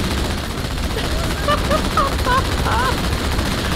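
Steady, close gunfire in the Halo 2 campaign, a continuous rattling barrage layered with chirping game effects, running the whole time without pause.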